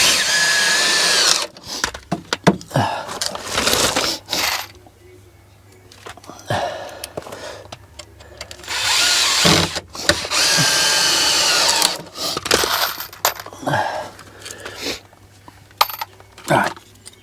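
A power drill drives screws into the wood of a garden shed with loud, close whirring bursts and short gaps between them. Someone talks at times between the drilling.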